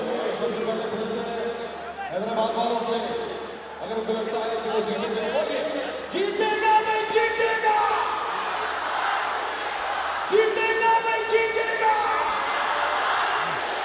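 Stadium crowd at a cricket final roars and cheers steadily throughout, dense and continuous, with surges and swells of noise from a large packed audience.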